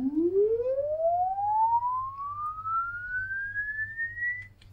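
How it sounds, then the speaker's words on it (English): A pure test tone fed through the output of an LD Zone 622 two-zone rack mixer under repair, sweeping smoothly upward in pitch over several seconds, steady and clean with a faint low hum beneath, no talk. "But we clearly can hear the tone."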